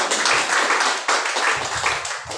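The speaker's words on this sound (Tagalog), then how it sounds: "palakpak sa Panginoon" A church congregation at a Sunday worship service claps together in a dense, continuous burst of applause that swells and dips in waves, heard up close and without speech.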